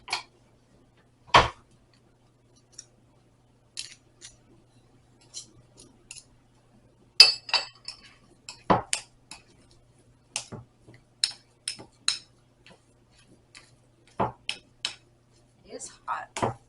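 Metal spoon clinking against dishes and pans while sweet potato and chorizo empanada filling is cooked, scattered sharp taps and clatters at irregular intervals, close and fairly quiet, with brief pauses between.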